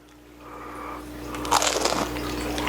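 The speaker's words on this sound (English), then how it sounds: "Listen to that crunch." A close, crisp crunch as a fried chicken tender is bitten, followed by chewing crackles and a second crunchy bite at the end.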